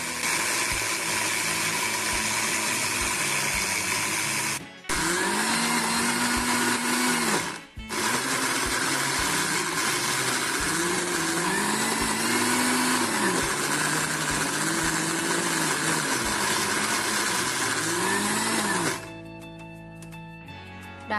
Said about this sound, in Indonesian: Kita blender sampai halus dan berminyak.